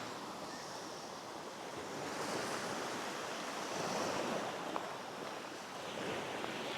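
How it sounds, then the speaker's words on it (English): Waves washing onto a small, dirty beach, a steady broadband rush of surf swelling and easing with some wind noise, moderately loud and continuous. "Small little beach."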